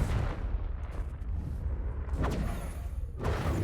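Confringo blasting spell in the video game Hogwarts Legacy, loud rumbling booms in steady succession with sharper cracking bursts near the middle and the end.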